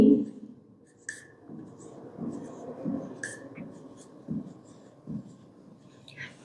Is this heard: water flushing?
no